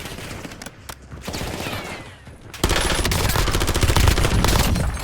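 Rapid, dense video game gunfire from a shooter match, with scattered shots at first and then a loud, sustained burst of automatic fire filling the second half, close and heavy.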